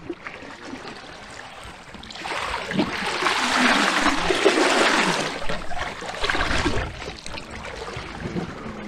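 Water gurgles and slaps against a sailboat hull, building to a louder splashing swell in the middle before easing back to soft lapping.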